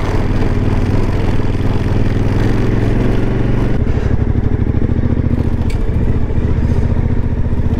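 A motorcycle engine runs steadily and loudly close by on a ride through Mongolia, a continuous rough idle-to-cruise drone with rattling clatter and a shift in rhythm midway.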